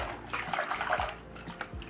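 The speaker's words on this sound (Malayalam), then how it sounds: "ഇനി നമുക്കിത് കുറച്ച് വെള്ളത്തിലൊന്ന് കഴുകാം" Drumstick leaves are swished and rubbed with the fingers in a basin of water, close up, with splashing and sloshing in uneven strokes.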